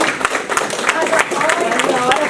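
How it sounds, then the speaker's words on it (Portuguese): Congregation at a religious teaching session claps in praise of Jesus, a quick patter of hand claps running beneath a voice that keeps talking over it. "salve de palmas para Jesus."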